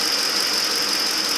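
Ford F150 pickup truck engine running steadily with new exhaust manifolds fitted, a loud continuous broadband roar with a high steady whine, close and alone with no talk.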